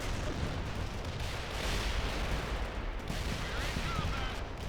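Artillery strike explosions in the video game World in Conflict form a dense, rumbling barrage, continuous and heavy with overlapping blasts at mid distance, faint radio chatter beneath.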